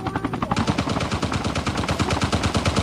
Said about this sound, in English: You're just shooting at the helicopter.